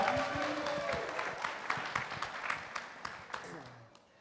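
Wedding guests at a reception clapping, sharp individual claps scattered over a fading murmur and tonal hum, thinning out toward the end.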